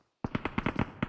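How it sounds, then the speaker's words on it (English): Sharp explosive bursts in PUBG Mobile competitive play: a rapid run of about seven close, punchy cracks with short decays, coming in quick succession after a moment of silence. "Oh, what a close grenade."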